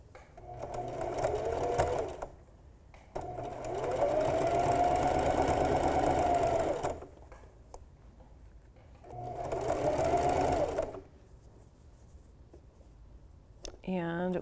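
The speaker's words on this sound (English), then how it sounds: "now we're sewing right back down the other side" A sewing machine stitches seams on an upcycled flutter sleeve tee, running in steady bursts of a few seconds separated by pauses, close and clear, with a person talking during the gaps.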